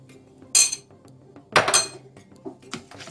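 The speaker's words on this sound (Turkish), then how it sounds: "şöyle bir yemek kaşığı irmik ve şöyle bir yemek kaşığı da ceviz ilave edelim" A spoon adds semolina and walnuts into a sauce, making a few sharp metallic clinks and scrapes against the pot in short separate bursts in a quiet kitchen.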